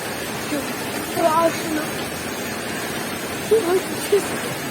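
A waterfall on a forest outing is a steady, faint rushing wash in the background, continuous and even, with people talking over it.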